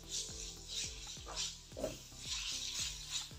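Green chilies and coarse chili sizzle in a pan with onions for a shahi baingan masala, a steady hissing fry with several short metallic clinks of a utensil against the pan.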